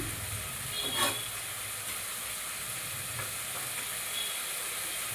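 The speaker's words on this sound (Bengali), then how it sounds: "এবার আমি ঝিঙে পটল আলু যে ভেজে রেখেছি সেগুলো দিয়ে দিচ্ছি" Fried ridge gourd, pointed gourd and potato dropped into a simmering rohu fish curry with crushed tomato, giving a steady soft sizzle and hiss with a brief stir or clatter near the start, close and fairly quiet.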